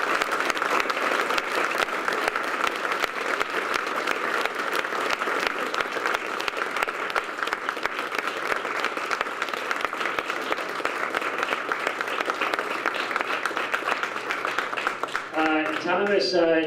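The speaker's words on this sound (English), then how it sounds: "I would like to get a big round of applause to Thomas Linzey." Sustained audience applause at a Colorado Community Rights Network meeting, a steady wash of clapping heard from a distance, with a voice beginning to speak as it ends.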